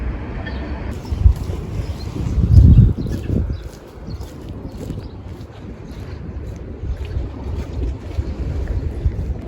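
Steady wind buffeting a microphone outdoors by the sea, with a low rumbling gust near the start and faint surf underneath.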